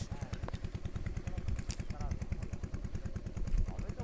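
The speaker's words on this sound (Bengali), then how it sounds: "শ্যালো মেশিনে দেখো আওয়াজটা এত ভালো লাগছে" A shallow tube-well pump engine running in a rural village, putting out a fast, even chugging pulse that stays steady throughout at moderate distance, with faint voices around it.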